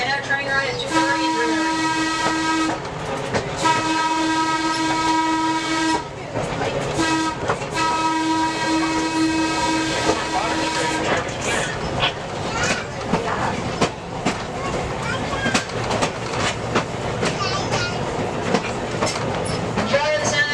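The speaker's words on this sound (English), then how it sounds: "Enjoy the sound of that whistle?" A train whistle at a railway museum sounds several long sustained blasts in the first half, followed by the rumble and clatter of a passing train carriage.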